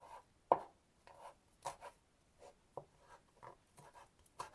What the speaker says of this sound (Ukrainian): Нарізаю зелень.